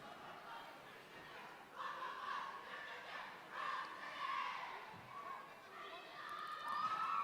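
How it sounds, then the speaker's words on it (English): Fans in an arena at a roller derby bout cheer and shout for both teams, a steady distant crowd roar swelling after a couple of seconds, with scattered whoops and chatter. "Fans, give a big round of applause to both of these teams."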